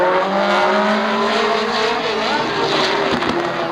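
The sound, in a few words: race cars lapping at Raceway Park, Shakopee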